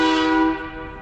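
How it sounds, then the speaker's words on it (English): A train horn fitted to a truck gives one loud, sustained, rich blast that cuts off partway through and leaves a fading tail, heard alone. "But that horn is loud"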